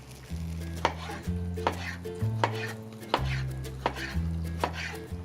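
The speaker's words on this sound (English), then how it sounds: "slice up this nice tomato that we have" A knife slices through a tomato on a cutting board, about six distinct cuts landing at a steady, even pace, each a crisp near thud with no talking, while a sustained low hum runs underneath from the nearby stove where tofu is frying.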